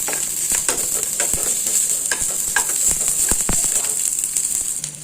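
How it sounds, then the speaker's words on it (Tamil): Ground parboiled rice batter with curry leaves being stirred in a hot pan, a continuous soft sizzle broken by frequent scraping and tapping strokes of the spoon. "மாவையும் இதிலே போட்டு நம்ம கிண்டிடலாம்"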